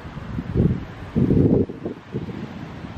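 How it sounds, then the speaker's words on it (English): Gusty wind buffets the microphone in low rumbling bursts, rising and falling several times over a few seconds. "It's so windy out here."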